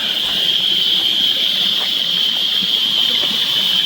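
Rushing water at Nagalapuram waterfall, a loud, steady, unbroken roar close by that fills the whole scene, with no talk heard.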